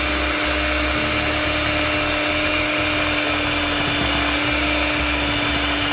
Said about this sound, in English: I'll be whipping the oil for this while I have the machine, the hand blender going, the mixer going